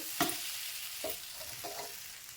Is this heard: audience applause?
no